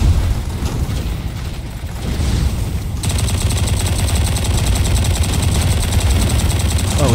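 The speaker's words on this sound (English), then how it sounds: "This little SMG is not bad." Rapid bursts from a small SMG in the sci-fi shooter Angels Fall First, sustained automatic fire growing dense and continuous in the second half amid loud battle noise, with no talk over it.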